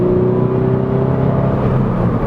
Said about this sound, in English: I think it sounds really good for a stock car.